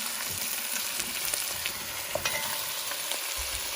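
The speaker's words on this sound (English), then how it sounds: "we are going to sear each side of beef bones" Grass-fed beef bones searing in a hot pan, a steady close crackling sizzle with scattered pops and spits running throughout, fairly quiet and with no voices.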